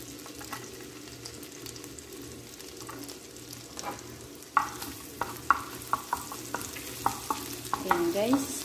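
Garlic sizzles softly in a pan for fried rice while a spatula stirs it, with faint frying at first and then sharper scrapes and taps against the pan growing busier near the end, heard up close without voices.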